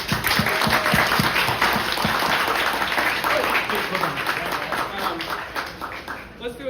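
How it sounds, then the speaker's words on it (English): Audience at a longevity biomarkers science meetup applauding a speaker, a steady spread of many hands clapping that slowly fades toward the end. "Give him a round of applause."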